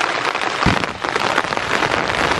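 Steady rain falls outdoors on a strawberry farm during picking, a dense close patter of drops on surfaces with one brief louder thump, no voices.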